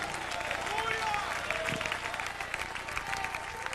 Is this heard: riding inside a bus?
no